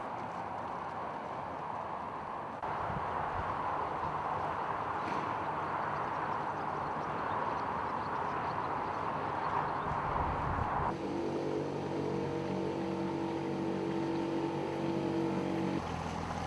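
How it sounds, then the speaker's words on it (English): Steady roar of M55 motorway traffic carrying over the Lancaster Canal, a constant broad rumble with a low engine drone growing more tonal near the end, fairly distant and without talk. "The M55 motorway is quite intrusive in noise terms over a longish stretch"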